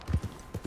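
Horse hooves clip-clop on the ground in the Red Dead Online video game, four soft, low thuds in an uneven gallop rhythm, close and fairly quiet.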